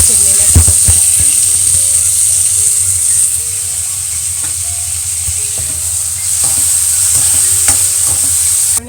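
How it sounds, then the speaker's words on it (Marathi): Finely chopped tomato hits sautéed onion in a pan while cooking a vegetable biryani, giving a loud, continuous sizzle with occasional stirring clicks, close and without talk. "त्याच्यामध्ये मी बारीक चिरलेला टोमॅटो टाकते."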